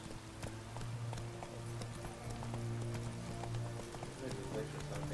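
Rhythmic clip-clop of galloping horse hooves in the video game The Witcher 3: Wild Hunt, running steadily beneath a low hum, with faint talking in the background.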